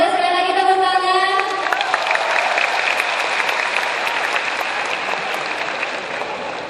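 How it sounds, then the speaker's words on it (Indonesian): An audience at an entrepreneurship discussion event bursts into sustained applause that holds strong for several seconds and then tapers slightly, with some cheering and a voice over the clapping early on. "Boleh sekali lagi tepuk tangan."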